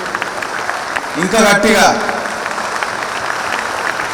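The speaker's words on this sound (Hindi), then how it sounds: "एक बार जोरदार ताली हो जाए." Audience applause at a business conclave, a short burst of clapping that swells briefly under a voice speaking over it, then fades to a low murmur of the hall.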